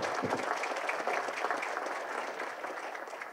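Audience applause for a barbershop chorus at a Somerville heroes' salute event, a broad, steady clapping from a sizable crowd that holds strong and begins to taper near the end.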